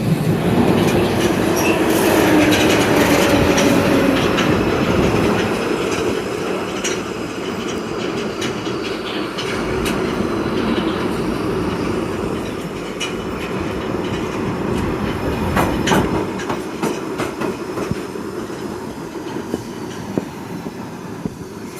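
A London Underground Piccadilly line train runs into a tunnel with a loud, close roar of wheels on rails, rhythmic clicks and occasional squeals over the long, steady rumble.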